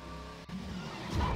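Car engine in the video game Nico's Nextbots: a steady droning hum with a tonal whine that swells louder toward the end, with a brief dropout partway through.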